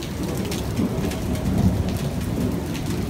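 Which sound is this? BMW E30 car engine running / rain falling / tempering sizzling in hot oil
rain falling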